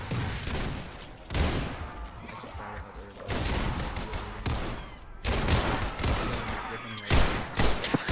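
Gunfire in the Roblox game Criminality, with dense bursts of rapid shots and long loud volleys broken by brief pauses, close and harsh, and shouting voices mixed in.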